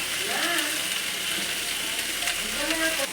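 Fish with turmeric frying in a pan as it is stirred, a steady close hiss of sizzling oil with faint voices murmuring underneath.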